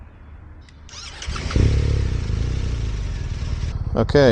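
An Aprilia motorcycle engine fires up and rumbles loudly nearby as the bike pulls away at a group ride meeting in Austin, Texas, with a brief spoken word near the start.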